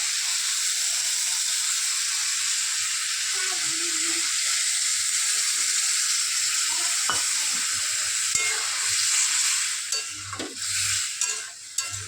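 Curry sizzles and hisses in a pan as it is sautéed with chili and mustard paste, a loud, continuous frying sound with stirring scrapes and bumps near the end.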